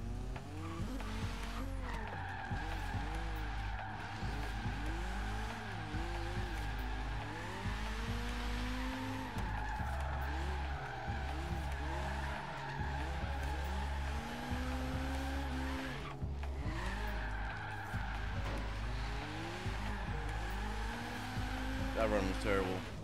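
A BMW E-Dirty M3 in Forza Horizon 3, engine droning and revving steadily through gear changes with repeated tire squeals and skids as it drifts, a loud, sustained run from start to finish.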